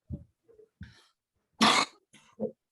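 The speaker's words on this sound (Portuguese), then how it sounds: "eu tô tossindo" Several short coughs and throat-clearing bursts in quick succession, one louder harsh cough in the middle, close and otherwise quiet.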